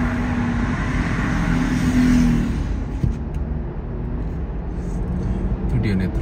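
A large truck hauling a container rolls past on a road in Edmonton, Canada, in autumn; a heavy, steady engine and road roar, loudest partway through, then fading as it moves away.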